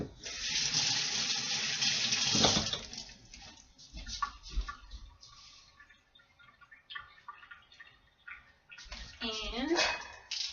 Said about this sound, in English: Okay, and rinse that off.